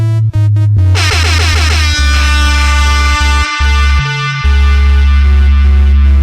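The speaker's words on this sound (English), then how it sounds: "Air horn." Loud, repeated air horn blasts with sweeping pitch ring out over a heavy, sustained bass line in a music track.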